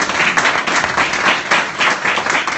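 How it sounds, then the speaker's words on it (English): Audience applause at a book launch, a dense steady patter of many hands clapping that swells and eases in waves, loud and close, with no talk over it. "I think they deserve a huge round of applause"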